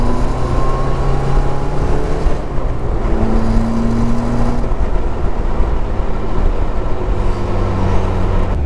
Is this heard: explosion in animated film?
no